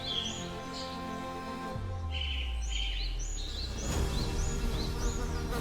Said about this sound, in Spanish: El zumbido empezó a sonar, haciéndose cada vez más fuerte. Enjambres de moscas descubrieron el cuerpo inmóvil.